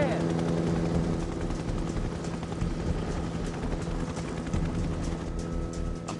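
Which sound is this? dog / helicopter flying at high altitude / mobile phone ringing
helicopter flying at high altitude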